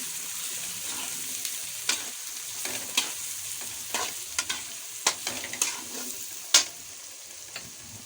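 Shredded cabbage stir-fried in a hot pan for egg fried rice, with a steady soft sizzle broken by repeated scraping stirs of the spatula at an uneven rhythm, close and clear with no talk.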